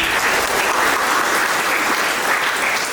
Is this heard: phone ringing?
no